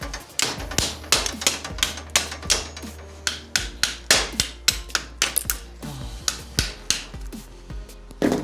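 Sharp, rapid hammer strikes in an uneven rhythm, close and loud, with short pauses between bursts of blows, in a workshop while mounting a tool wall.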